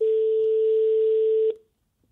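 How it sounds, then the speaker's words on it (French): Telephone dial tone as a call is placed, one steady loud electronic tone lasting about a second and a half before cutting off abruptly into near silence. "je passe un rapide coup de téléphone à Daniel."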